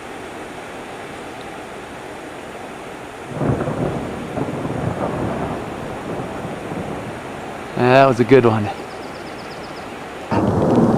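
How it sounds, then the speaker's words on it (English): Thunder rolling around a mountain canyon as a rainstorm approaches, low rumbles rising and fading through the clip amid steady rain and wind noise, with a brief spoken comment in between. "the thunder is all around us"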